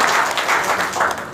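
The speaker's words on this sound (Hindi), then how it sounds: "ताली बजाइए प्लीज।" Audience applause at a spiritual talk on smiling and winning the mind, a steady continuous patter of many hands clapping together, fairly loud and close throughout with no voices over it.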